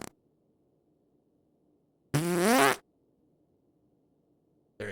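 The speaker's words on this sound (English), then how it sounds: "Give us a good fart." A fart sound sample played in a video game, one loud, buzzy, wavering blast lasting under a second, set in near silence.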